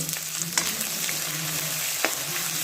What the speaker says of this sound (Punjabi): ਹੁਣ ਆਪਾਂ ਪਾ ਲਏ ਨੇ ਹਰੇ ਮਟਰ ਹੁਣ ਇਹਨਾਂ ਨੂੰ ਆਪਾਂ ਭੁੰਨਾਂਗੇ